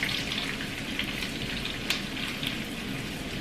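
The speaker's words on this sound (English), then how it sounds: "when garlic starts cooking, baby, it smells exceptional" Garlic frying in a pan gives off a steady, close sizzle with crackly pops scattered through it, and no one speaks.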